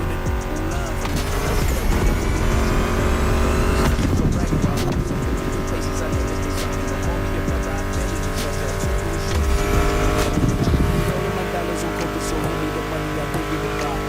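Racing car engines from The Crew Motorfest roar steadily under a music soundtrack, with revving swells and occasional tire squeals close by.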